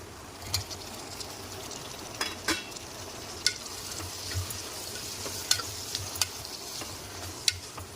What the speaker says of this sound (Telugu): ఫ్రై అయిపోయింది కదా ఇందులోకి మనం టమాటా వేసేసుకుందాం